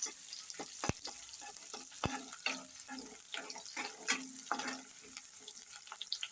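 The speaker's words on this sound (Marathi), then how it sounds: "मिरच्या सगळ्या भाजून घेते व्यवस्थित" Green chillies roast in a pan on a wood-fired stove, making a dense crackling sizzle with frequent sharp pops and stirring scrapes, close and continuous throughout.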